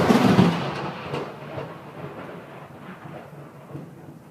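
Thunder follows a lightning strike as a deep rumble that bursts loudly at first, then rolls and fades into a low, drawn-out grumble with faint rain-like noise beneath.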